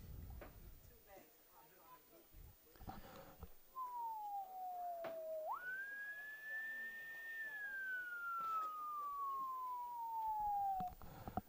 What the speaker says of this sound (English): Did you hear an ambulance?